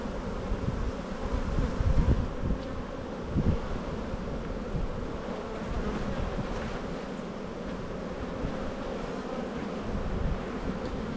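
Bees swarm around an opened hive, a dense continuous drone of buzzing wings close to the microphone with occasional rustling and bumps, no speech.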